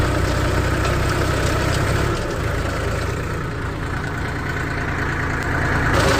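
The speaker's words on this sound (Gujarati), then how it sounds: "ટ્રેક્ટરને આપણે અહીંયા જ બંધ કરી દેશું" A steady, low New Holland 3037 TX tractor engine idle drones on continuously with a constant rumble, slightly heavier at the start, no voices.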